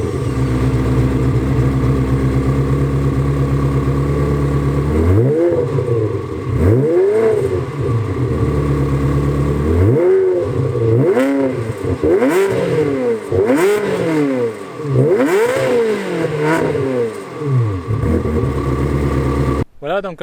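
Ferrari 360 Modena with a Tubisteel exhaust starting up, then revving repeatedly in loud rising and falling sweeps over a steady rumbling idle, close by and continuous for about fifteen seconds.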